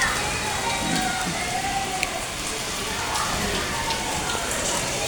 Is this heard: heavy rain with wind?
yes